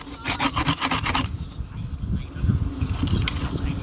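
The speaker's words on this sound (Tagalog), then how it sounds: "Mahirap lihain yung loob nito guys." Steady rasping friction of sandpaper worked by hand inside a handmade wooden bowl shaped from a coconut shell, with quick repeated strokes early on giving way to slower, heavier rubbing, close and continuous, with no talk.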